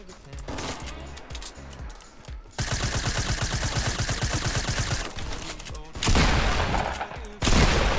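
Rapid gunfire bursts from a multiplayer shooter video game, with loud repeated shots in clusters and short pauses between them.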